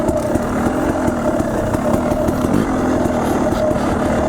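An enduro motorcycle engine labors steadily up a hill in first gear, a loud, continuous low rumble with a rough, pulsing note throughout, close by and alone.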